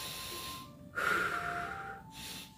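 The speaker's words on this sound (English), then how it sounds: "So it's reverse of belly breathing." Deep back breathing during a qi gong iron body meditation session: one long, forceful breath close to the mic lasting about a second, framed by quieter breathing, with no talking.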